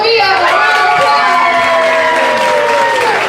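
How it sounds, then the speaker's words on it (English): Loud crowd cheering, whooping and clapping at an awards ball, a dense continuous roar with high shouted voices rising over sustained applause. "Everybody give Mama B a round of applause."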